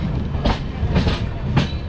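A sleeper-class coach of the Kerala Express from Thiruvananthapuram to New Delhi rumbles along the track, with a steady low roar of wheels and three evenly spaced clickety-clack bursts as the wagon passes over rail joints.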